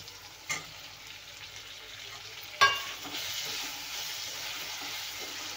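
Tomatoes tipped into brinjal softened in hot oil, a faint steady sizzle in the pan with a sharp clatter as they drop in, followed by a slightly louder crackling fry; no voices.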